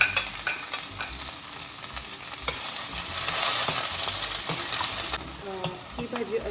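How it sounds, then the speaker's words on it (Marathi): Capsicum and onions sautéing in a pan at home for kadai paneer, a steady close hiss and crackle with scraping stir strokes, fairly loud throughout, with no talk. "आता मी शिमला मिरची आणि कांदे परतवते"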